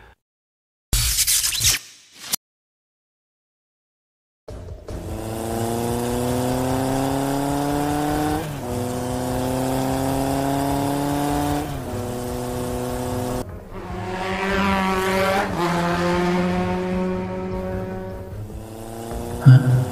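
An animated car's engine drones and rises in pitch as it revs, loud and sustained after a few short opening bursts and a moment of silence, with a second revving climb near the end.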